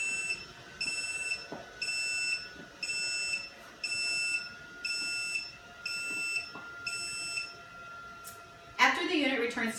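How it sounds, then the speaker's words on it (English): A PAPR powered respirator unit sounds its low-flow alarm as a string of about eight evenly spaced, shrill, close beep bursts over a quiet hum. A louder, noisier burst ends the sequence. "the unit will sound an audible alarm, make a vibratory alarm, and the filter loading flow LED indicator will flash red"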